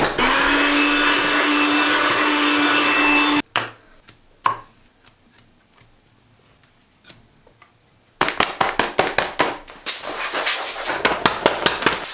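Compressed air from a tin sprayed into the corners of a camera bag, a loud steady hiss that cuts off, followed by quiet handling clicks, then rapid bursts of short spurts and one more sustained blast.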